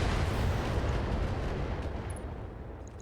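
Weapon fire in the BattleTech mech combat game, a dense, rumbling low-end blast that swells at once and then slowly decays over a few seconds, loud and heavy without any talking.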